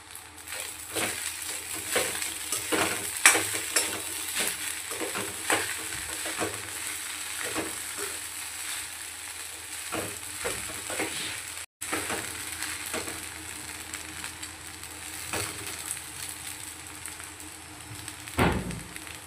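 Potatoes fry with sabudana in a pan, giving a loud, continuous sizzle broken by repeated scraping stir strokes and crunchy clatter, up close and without any talk.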